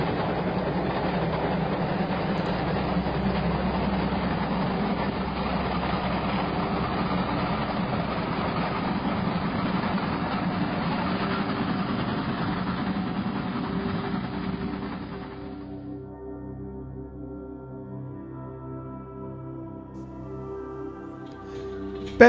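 A train running along the Wirral Way line near Neston, a steady rumbling engine drone with rail noise for about fifteen seconds, then dropping to a quieter idling hum, heard alone without talk.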